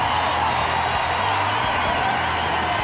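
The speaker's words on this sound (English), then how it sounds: "Listen to the ovation the crowd gives him" A basketball crowd gives an ovation to a returning player: a continuous, loud wash of cheering and clapping that holds steady for the whole span, with low arena rumble underneath.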